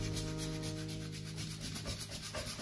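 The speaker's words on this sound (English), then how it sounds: "Just got some sandpaper here, so we're just going to sort of smooth out a little bit extra on the top here." Sandpaper rubbing over the top of a Christian Louboutin shoe during restoration, a steady close scratchy swishing in rhythmic back-and-forth strokes with no talk.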